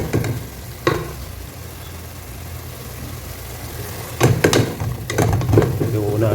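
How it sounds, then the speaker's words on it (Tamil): Mutton biryani masala sizzling and being stirred in a pan, a soft steady fry with a few sharp scraping stirs. "இது கொஞ்சம் நல்லா வதங்கட்டும்."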